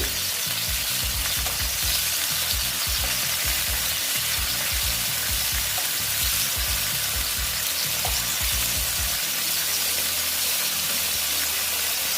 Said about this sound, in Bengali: দেখো বন্ধুরা আমি এই মাছ আমি ভেজে দিচ্ছি ঠিক আছে আস্তে আস্তে ভাজা হচ্ছে